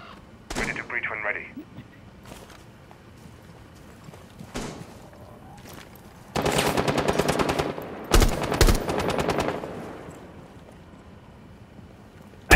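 Gunfire aimed at a wall in the video game Rainbow Six Siege: isolated single shots, then long rapid automatic bursts up close, with a brief voice early on.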